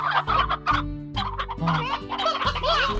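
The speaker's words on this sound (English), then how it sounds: "Elder hen. An old bird whose egg-laying days are over." Elder hen from the video game Slime Rancher clucking, a run of loud, close, repeated fowl clucks and squawks over a low steady game music hum, with no talking.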